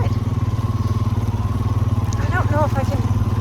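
Four-wheeler ATV engine idling and puttering steadily close by while herding cattle on sale day, a continuous low throbbing drone with someone talking over it.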